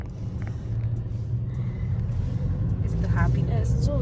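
A car drives along with a low, steady engine rumble and road noise from inside the cabin, with people talking over it.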